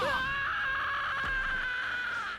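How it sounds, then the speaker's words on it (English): A character in the fighting game Jump Force lets out a long, loud, sustained scream, holding a strained high pitch for over two seconds with a brief thump partway through. "God, that boy was born to scream. That boy screams so much."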